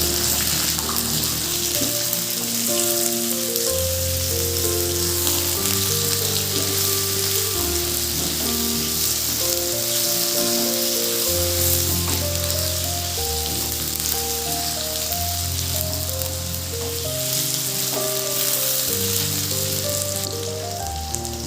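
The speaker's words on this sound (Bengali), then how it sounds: "পাঁচ মিনিট মতো আলুটা আমি ফ্রাই করব" Chopped potatoes and tomatoes fry for a Bengali spicy potato curry, giving a steady, even sizzle that runs the whole time beneath louder background music, with no talking.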